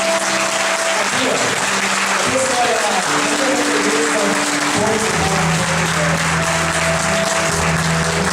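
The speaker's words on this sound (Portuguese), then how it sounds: "Pode aplaudir isso." A church congregation at a healing and deliverance mass claps loudly and continuously, a thick steady roar of applause, while a voice speaks over it and sustained tones sound underneath.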